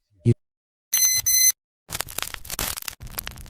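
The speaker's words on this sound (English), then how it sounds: "A loud beep from the software" A pair of loud, sharp electronic software beeps, an inactivity warning, in quick succession, then a stretch of rustling and clattering noise.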